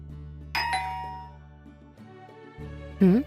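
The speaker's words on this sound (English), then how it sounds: "The doorbell rang" A doorbell chimes once, a bright ding-dong ringing out and fading over a quiet low hum, followed by a short, sharp sound at the end.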